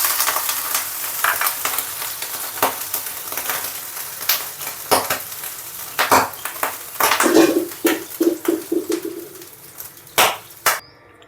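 Water is sprinkled onto a hot oiled pan while cooking moong dal chilla, setting off sharp crackling spits and bursts of sizzle over a low frying hiss, the pops growing busier toward the end.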